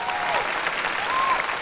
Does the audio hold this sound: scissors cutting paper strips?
no